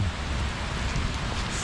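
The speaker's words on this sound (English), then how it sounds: "At least it's not cold rain, it's warm." Warm summer rain falling steadily at the foot of Castle Peak mountain, a dense, even hiss of drops with a low rumbling undertone, close and continuous with no talk.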